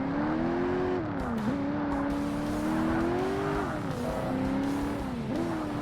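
Ferrari sports car engine in Forza Motorsport, a 2005 Xbox racing game, droning steadily at high revs with brief dips as gears shift, loud and continuous throughout.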